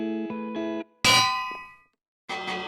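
Minecraft bell rung at a village tower, two quick metallic clangs, then a louder strike that rings out and decays, followed by two more clangs after a brief silence.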